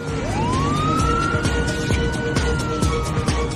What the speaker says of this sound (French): 9 camions de pompiers viennent de toute urgence se poster sur une des pistes de l'aéroport.